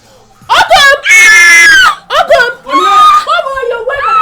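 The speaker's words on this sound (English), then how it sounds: "you're awake and you're screaming" A person screams loudly in several long, shrill, wavering bursts, close and piercing, with short breaths and gaps between the cries.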